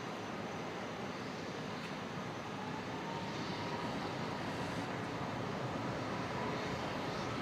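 An Emirates airliner rolls down the runway at Brisbane Airport at night, a steady broad roar of engine noise heard from a distance without any talking.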